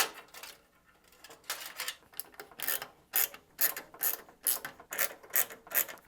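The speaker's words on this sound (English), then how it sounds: "I'm gonna install the front 3 RGB fans" Three RGB case fans are fitted into the front of a Phanteks Eclipse G300A budget PC case, producing a series of sharp plastic clicks and snaps with a ratcheting, mechanical texture, quite close and with no talking.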